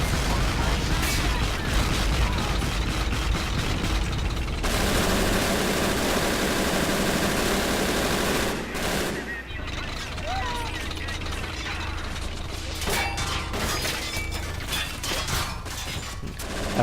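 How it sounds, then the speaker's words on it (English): Sustained, dense gunfire and battle noise from the World War II strategy game Men of War: Assault Squad 2, with a machine gun letting loose amid continuous rumbling combat. "that guy's just letting loose with the machine gun"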